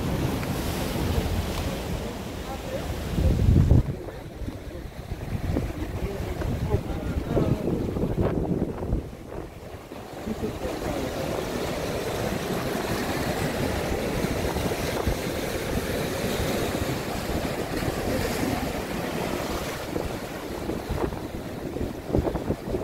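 Ocean waves wash against the rocky shore at Yongduam Rock on Jeju Island, a continuous broad roar of surf with wind buffeting the microphone, a louder surge early on, no talking.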